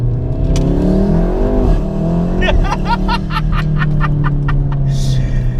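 A modified 500 bhp Stage 3 Volkswagen Golf R wagon pulls hard in first gear out of a hairpin, its engine revving loud and close with rising harmonic sweeps and rapid gearbox or exhaust pulses toward the end.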